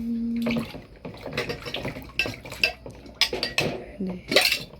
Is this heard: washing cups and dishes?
yes